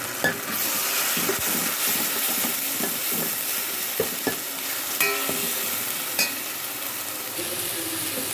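Ginger garlic paste frying in a pan, a loud continuous close sizzle broken by spatula scrapes and a few sharp clinks against the metal, with no voices.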